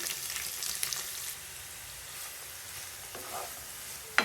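Mustard seeds and onion flower stalks frying in hot oil in a home kitchen, a steady soft sizzle with faint crackles and a sharp clatter at the very end, no voices.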